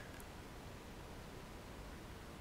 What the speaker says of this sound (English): we're using a white noise signal to excite all frequencies